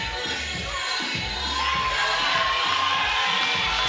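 Boxing crowd at the Montreal Casino during a women's bout, a loud sustained roar of cheering and shouting that swells slightly midway, close and dense, with no clear talk over it.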